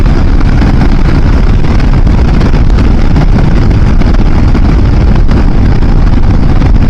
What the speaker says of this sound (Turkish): Rüzgar başladı.